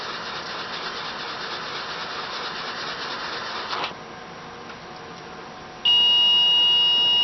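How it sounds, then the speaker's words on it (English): An alarm buzzer on an incubator monitoring system for germinating peppers starts abruptly after a stretch of broad rubbing noise, then holds as a loud, steady, high electronic tone to the end. "It set the alarm off. You see the lights flashing and the buzzer's buzzing."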